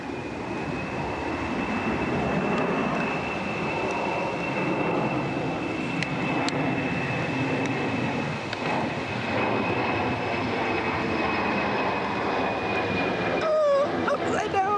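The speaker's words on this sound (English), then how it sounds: "One distinct plane has a real sharp whistle like that" A low-flying airplane drones steadily with a sharp, high whistle held above the rumble; near the end a faint voice is heard.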